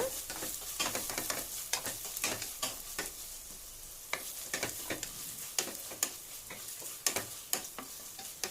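Chopped onion frying with ginger garlic paste in a pan, a soft steady sizzle punctuated by rapid rhythmic spatula scrapes and taps, fairly quiet and close.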